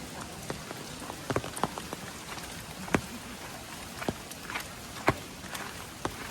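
Rain falls at a hill station, a soft continuous patter with scattered louder drips and taps striking nearby surfaces throughout.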